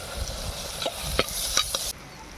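Ingredients stirred and sautéed in a hot pan with steady sizzling throughout. Several sharp scrapes and clicks from the spoon are close by, and then the frying noise drops to a softer level near the end.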